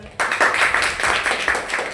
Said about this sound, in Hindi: चलो ताली बजाओ पहले